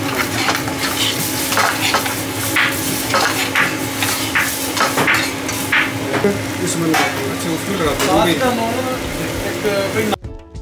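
Samosas frying in a busy restaurant kitchen produce a constant sizzle amid stirring, clattering pots and utensils, with voices talking in the background before the sound cuts off abruptly.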